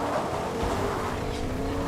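Vehicle engine from a truck driven in the Fortnite video game, a steady continuous drone at moderate level with no speech, lasting under two seconds.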